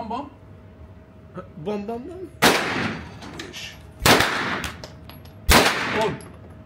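Three loud, sharp SCAR rifle shots fire a second or so apart at an outdoor shooting range in Turkey, each a broadband crack with a short tail, over background chatter and voices.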